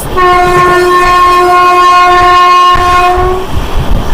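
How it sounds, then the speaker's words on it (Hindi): A Janshatabdi LHB express running at about 110 km/h through Maujampur junction: a loud, close, sustained horn blast lasting several seconds over the steady rumble of the moving train, with no speech. "मौजमपुर जंक्शन को हम समय 110 की स्पीड पे स्किप कर रहे हैं।"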